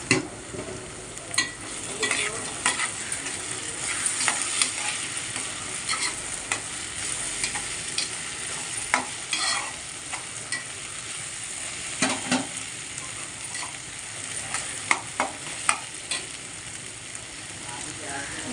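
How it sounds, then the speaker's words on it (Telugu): Okra frying in a pan as it is stirred, a steady close sizzle broken by repeated scraping and clinking of the spatula through the whole stretch, with no talking. "బెండకాయ ఫ్రై అయిందో లేదో చూద్దాం ఫ్రెండ్స్"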